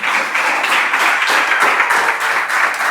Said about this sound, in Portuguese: Receba o servo do Senhor com palmas nesta noite